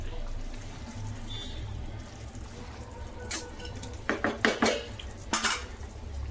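A spoon scrapes and stirs veg keema gravy in a metal pot, with soft background hiss and a few sharp clanks against the pot's rim near the end.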